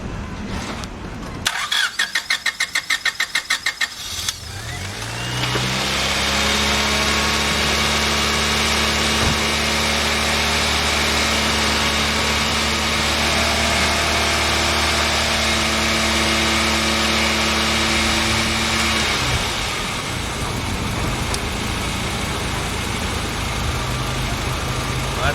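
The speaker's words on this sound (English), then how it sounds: "I'm going to turn on the engine, put the heat all the way max so that we can get the thermostat to be open" A rebuilt 1997 Honda Civic engine cranks briefly with rapid starter clicks, catches, and settles into a steady, loud idle that holds for about fifteen seconds before dropping away.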